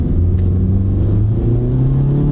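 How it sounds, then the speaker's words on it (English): A Honda car with a CVT transmission revs high and holds a steady, loud engine drone as it pulls away, its pitch climbing and settling with no gear shifts. "See, it revs real high."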